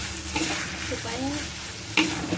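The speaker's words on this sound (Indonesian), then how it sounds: "Sambil sesekali harus kita aduk seperti ini ya bunda" Chicken pieces being stirred in a frying pan, a steady sizzle with a few scraping strokes of the spatula and a brief louder clatter near the end; nobody speaks.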